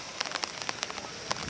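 Steady rain falls on a summer day in Lahore, with many small drops pattering and tapping close by on surfaces in an irregular, continuous patter.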